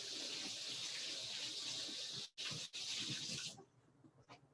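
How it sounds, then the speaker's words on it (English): Water from a kitchen faucet runs steadily over green onions being rinsed, a loud broadband rush broken by two brief gaps, then cut off and trailing into faint drips and handling. "I'm next going to be rinsing off my green onions."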